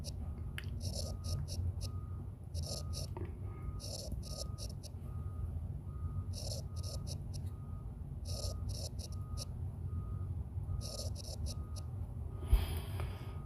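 Chalk or marker strokes on a classroom board during an English vocabulary lesson, appearing as repeated short scratchy bursts in clusters over steady low background noise, with no talking over them.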